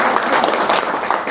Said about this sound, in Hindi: ताली बजा दो अपने लिए।